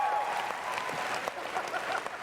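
A loud crowd cheers and applauds continuously at the Bethesda E3 2019 showcase, a dense sustained roar with scattered whistles and shouts.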